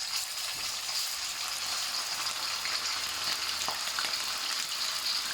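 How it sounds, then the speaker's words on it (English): Pork strips deep frying in red-hot fat give a steady, close crackling sizzle with scattered pops and spits, constant throughout with no voices. "I'm going to put the pork in now, and I've cut into strips, but eventually we're going to cube it. But I want to deep fry it first"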